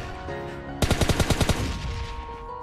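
A rapid burst of about ten sharp automatic gunshots cracks out in the BGMI Lite mobile game, loud and close over low in-game background hum, then stops abruptly.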